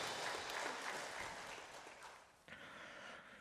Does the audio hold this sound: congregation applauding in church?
yes